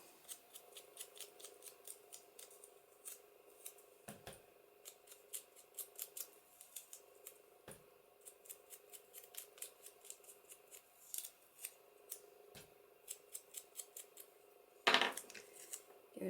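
Scissors snip around a paper specimen tag, sharp crisp cuts repeating in quick irregular bursts, close and quiet, with a few soft thuds in between.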